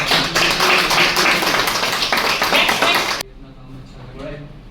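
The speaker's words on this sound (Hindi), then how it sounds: "तालियां तालियां।" An audience at a corporate team-building session applauds in a dense burst of clapping lasting about three seconds before it cuts off abruptly, leaving quieter talk afterward.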